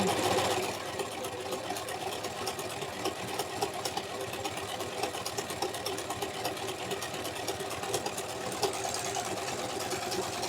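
A budget Singer S010L four-thread household overlocker runs steadily at speed while serging fabric, giving an even, fast mechanical whir that holds at moderate level throughout with no talk.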